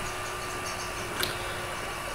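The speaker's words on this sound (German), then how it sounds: "Motor starten." A tractor engine idles in Landwirtschafts-Simulator 17, a steady, even drone with a single faint click near the middle.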